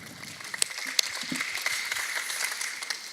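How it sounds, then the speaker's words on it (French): Audience applause for a speaker at an event, a steady, moderately loud patter of many hands clapping for about three seconds with a few sharper individual claps standing out. "vous pouvez l'applaudir"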